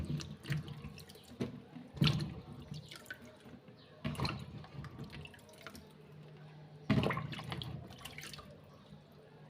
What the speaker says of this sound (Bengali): লাউটা সুন্দর করে ধুয়ে নিতেছি।